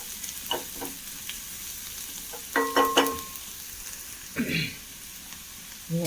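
Spinach curry with onion and chili sizzles softly in a pan while being stirred, with several distinct scraping and clattering spoon strokes against the pan over a low frying hiss.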